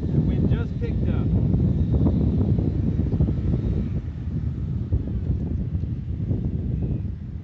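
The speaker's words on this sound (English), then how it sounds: "The wind just picked up." Strong wind on a golf course buffets the microphone in a continuous loud, rumbling roar that barely lets up, fading slightly partway through.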